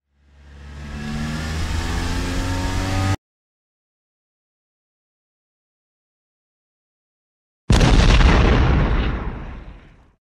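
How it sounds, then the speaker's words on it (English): A cartoon car engine revs up loudly with a rising roar for about three seconds, then after a silent gap a second burst of engine noise roars in and fades as it drives away. "Oh no, it's a car!"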